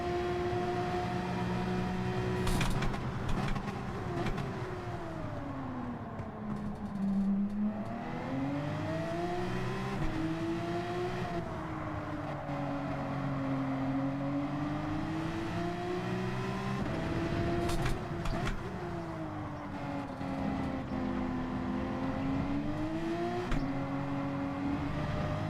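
Race car engines in a Gran Turismo 7 race roar continuously, their pitch rising and falling through gear changes and corners, loud and steady for the whole stretch with no talk.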